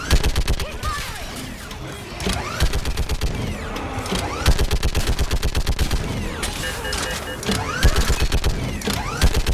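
Rapid automatic gunfire rattles through a Mass Effect 3 battle, loud and nearly continuous in fast rhythmic bursts, layered with other combat noise and shouted voices.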